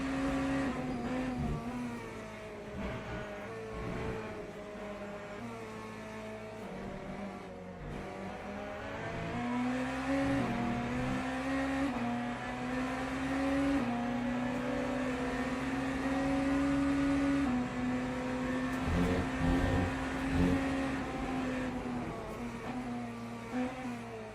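A race car engine drones steadily through a Le Mans 24h lap in a racing game, holding a sustained high whine that rises and dips slightly with gear changes and throttle, with no talk over it.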